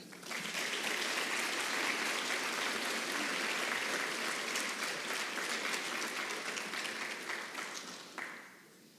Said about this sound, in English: Please, everybody, give a good round of applause for Savannah Burton.